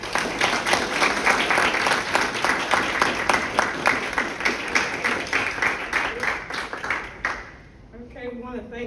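A seated audience at a Women's History Month meetup in Murphy, Texas claps steadily, close and sustained for several seconds before fading out, with people talking at the end.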